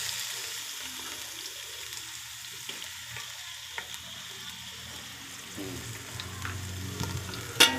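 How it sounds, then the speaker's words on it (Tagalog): Garlic, onion and chicken sauté in a hot pan with a steady, moderately loud sizzle and frying crackle that runs the whole time, with a few clinks and stirring knocks near the end and no talking. "gisa-gisa na tayo. Bawang sibuyas."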